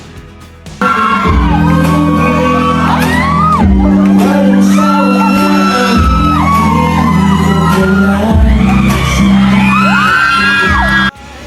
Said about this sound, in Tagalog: halos hindi na marinig ang kanilang kinakanta dahil sa sobrang sigawan